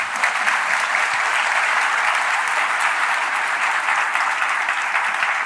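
An audience applauds a lecturer after an urban design talk on cities meeting the sea, a dense, steady wash of clapping held at full strength throughout with no speech over it.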